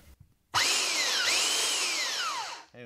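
A hand belt sander picked up at a flea market runs steadily and loudly for a couple of seconds, its whine sweeping down in pitch and rising again, then cutting off near the end.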